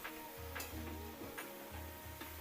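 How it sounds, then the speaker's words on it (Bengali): Diced ash gourd stir-fried in oil in a pan, soft sizzling under a low repeating hum, with a few sharp scrapes or clinks of a spatula at intervals, close by and quiet. "ডুমড়ো ডুমড়ো করে যে আমি চাল কুমড়োটা কেটে রেখেছিলাম ওই তেলের উপরে আমি তুলে দিচ্ছি দিয়ে একটু ভালো করে কষিয়ে নিচ্ছি"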